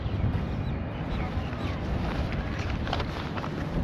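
Wind buffets the microphone in a steady rough rush, with a marathon race shirt flapping outdoors and soft irregular rustles throughout.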